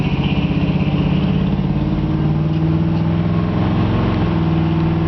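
A 1963.5 Ford Galaxie 500XL with a built V8 and cam underway, a continuous loud low engine drone with steady harmonic hum and slight pulsing, no voices.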